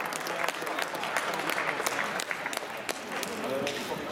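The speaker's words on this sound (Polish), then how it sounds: "Słuszne brawa." Indoor athletics crowd applauding after a men's 60 m final in Toruń, dense continuous clapping at moderate distance with sharper claps standing out and faint voices mixed in.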